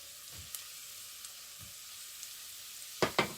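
Potato pieces frying in a pan for dried anchovy curry, heard as a low, faint sizzle with a few soft stirring knocks and two louder scrapes at the end.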